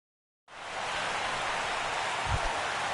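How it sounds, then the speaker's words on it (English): Steady rain falls in the MLB The Show baseball video game, beginning abruptly after a brief silence and continuing as an even, loud, broadband hiss with no talk. "as the rain continues to fall here"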